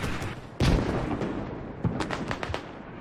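Heavy booming impacts from mortar fire land during a military video game match on Fools Road, with a loud thump near the start and more crashing blasts later over a steady rumble of battlefield noise.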